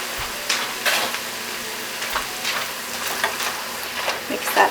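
Tater tot hot dish ingredients being stirred together in a bowl or pan: intermittent scraping and clinking of a utensil against the dish, a few sharper knocks, close and moderately quiet.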